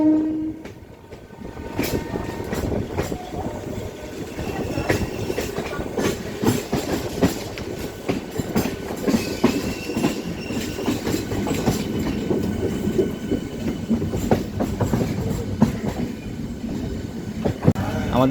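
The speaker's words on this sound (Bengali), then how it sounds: "ট্রেনটি কিন্তু শিয়ালদা স্টেশনে চার নম্বর প্ল্যাটফর্মে এখন ঢুকছে" A local train on the Krishnanagar City to Sealdah run rolls into platform four at Sealdah station, a loud continuous rumble of wheels and carriages with rhythmic clatter and a horn, crowd noise underneath.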